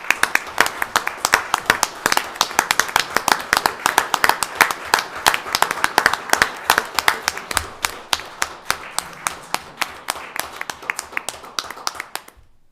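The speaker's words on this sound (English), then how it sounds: "But please stand up so we can give you a round of applause." Honorees at a county board of commissioners meeting receive a round of applause from the room, sustained clapping that stays full for most of the stretch, then thins to a few scattered claps before stopping.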